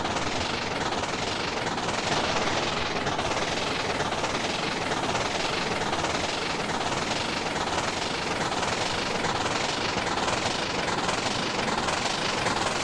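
NP S-10 4-6-0 steam locomotive running at speed in Trainz 2019, a loud continuous rushing roar with fast, blurred chuffing merged into a steady wash of noise, no voices.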